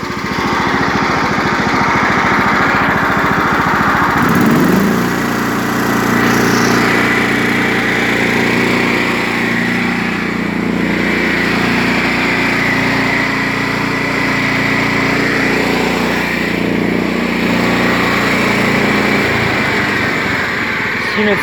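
A John Deere STX38 lawn tractor, 38-inch, five-speed with bagger and cast iron cylinder liner, runs steadily up close with a loud, continuous engine drone that shifts slightly in pitch midway and keeps going throughout.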